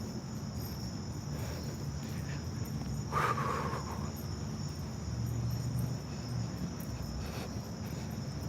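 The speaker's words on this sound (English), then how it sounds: "you can hear the crickets" Steady insect chirring, like crickets at night, fills the background continuously, with a brief louder rustle partway through; no voices.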